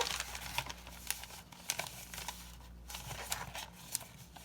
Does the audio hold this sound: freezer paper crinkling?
yes